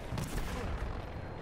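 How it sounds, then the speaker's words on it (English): A fire grenade goes off during an online Battlefield 1 match, a short dense burst of explosive crackle and rumble, loud and close, with no voices heard. "Eat fire grenade."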